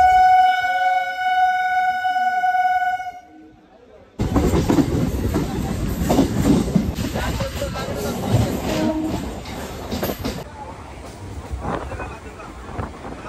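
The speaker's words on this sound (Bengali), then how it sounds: "অবশেষে আমাদের ট্রেন ছাড়লো লক্ষ্মীকান্তপুর থেকে নামখানার উদ্দেশ্যে।" Local suburban passenger train running from Lakshmikantapur toward Namkhana in West Bengal, with a steady loud rumble and rattle of carriages after a horn-like tonal opening; wind buffets the microphone.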